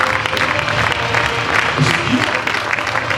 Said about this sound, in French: Est-ce qu'on peut encore applaudir pour les différents intervenants?